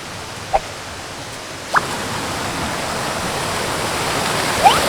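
Strong rushing water at Pak Rang waterfall roars steadily and loudly throughout, a dense continuous wash with a couple of faint brief clicks over it.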